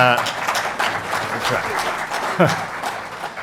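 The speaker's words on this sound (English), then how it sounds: "I see one of Her Majesty's Canadian subjects is applauding eagerly there" Clapping at a keynote speech at a climate conference, steady and moderately loud under a voice that speaks over it.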